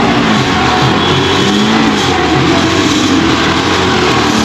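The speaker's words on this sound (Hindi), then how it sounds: "कभी कभी ना ये रेस बढ़ जा रही है, ऐसे छोड़ रहा हूँ स्पीड हो जा रही है" A faulty scooter engine races on its own at a high idle after the throttle is let go, making a loud, steady, unbroken drone.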